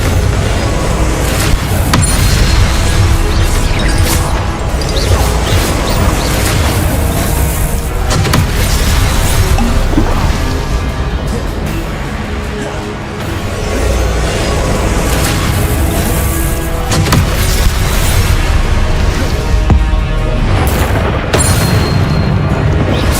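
Repeated explosive blasts from the Confringo spell in the video game Hogwarts Legacy, loud and continuous booms with rumbling, crackling bursts layered over one another for the whole stretch, with no talking.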